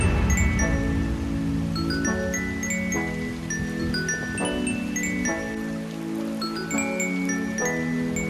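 Steady rain falling during a first monsoon shower in a village, a dense continuous patter with bright tinkling drops hitting a surface close by, no voices.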